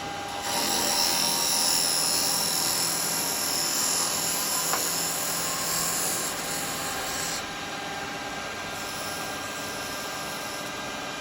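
A woodturning lathe cutting and cleaning up the bottom corner edge of a small wooden weave-style basket pot, giving a steady high whirring, scraping hiss that holds loud for about seven seconds, then eases to a softer continuous tone.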